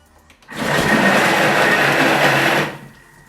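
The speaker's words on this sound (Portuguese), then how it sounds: "Vamos meter em velocidade turbo" A Thermomix food processor blends lemonade at turbo speed in one loud, steady burst of roughly two seconds that starts and stops abruptly.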